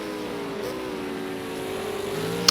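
V8 Supercars racing at Donington Park, steady loud engine drone with a rising and falling pitch as cars run close together, a continuous roar without speech.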